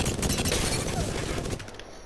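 A weapon toggled to full-auto in Apex Legends fires a continuous loud rapid stream for under two seconds and then stops abruptly, with a voice faintly present underneath.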